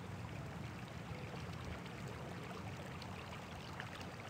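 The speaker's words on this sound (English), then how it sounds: "water that runs continuously." Steady rushing of water running continuously over the stone Civil Rights Memorial fountain on a quiet street at dusk, a constant close wash with no voices.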